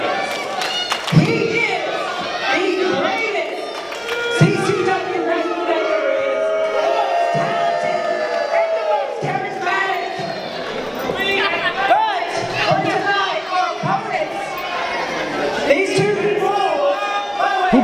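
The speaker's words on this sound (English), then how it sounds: "the crowd's definitely giving him a reaction" A wrestling crowd reacts to a wrestler hyping them, a continuous murmur of voices and scattered shouts running under commentators talking throughout, with occasional louder thuds.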